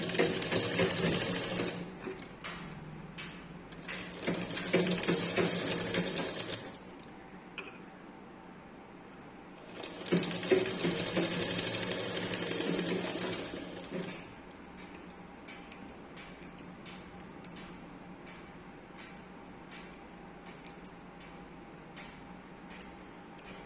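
Sewing machine stitching piping cloth to the fabric edge for baby clothing, two rapid stitching runs of several seconds each, then lighter intermittent ticking and clicking as the work is adjusted.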